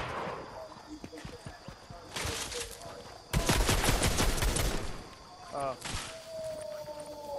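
Gunfire in a Fortnite match, with dense bursts of automatic fire and heavy shots swelling and fading over several seconds, along with game effects and a brief voice exclamation.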